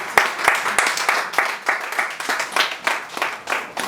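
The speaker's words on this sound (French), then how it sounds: "je tiens à ce que chacun de nous applaudisse encore Monsieur" Applause from participants at a gathering, with distinct individual claps standing out from the group in a fairly regular, moderately loud rhythm that continues steadily.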